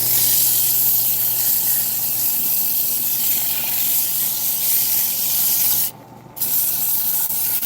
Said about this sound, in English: I've actually got some sandpaper over there that Honey sent me when he sent me the mallet, and I'm getting ready to use it on this.